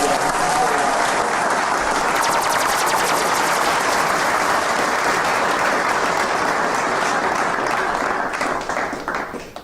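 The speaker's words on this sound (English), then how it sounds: "what a round of applause" Loud, dense round of applause from a crowd, sharp rapid claps running steadily for nearly ten seconds before tapering off at the end.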